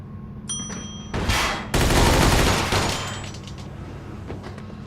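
Gunfire in the Mafia II video game: a few single shots, then dense bursts of rapid automatic fire for about two seconds, tapering into scattered echoing shots, loud with no talking.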